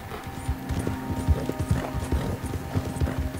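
Horse hooves clip-clop in Red Dead Redemption 2 Online, a steady rhythmic walking gait of dull, close thuds over a faint background hum.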